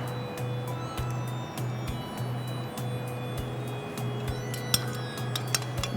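An egg is beaten in a bowl, with light irregular clinks and taps of utensil against the dish over a steady low kitchen hum, fairly faint and close.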